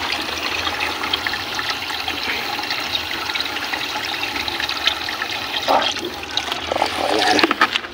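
Water gushing and splashing from a bucket being emptied for a prank, a continuous rushing pour that grows louder and more agitated toward the end, with no voices.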